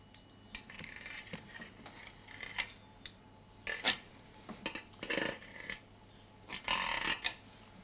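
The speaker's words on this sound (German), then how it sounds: "Jetzt nehme ich meinen Teigroller und schneide da an dem Deckel außen rum." A rolling pin is pressed around the rim of a Tarte Tatin pan to trim the pastry lid. Short, close scraping and rasping strokes come in irregular bursts, with quiet gaps between them and no voices.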